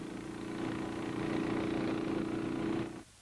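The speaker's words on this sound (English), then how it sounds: "After all openings are sealed, the engine is started." Engine driving a blower that forces CS chemical into a tunnel runs with a steady low drone and hum, fairly faint, then abruptly cuts off near the end.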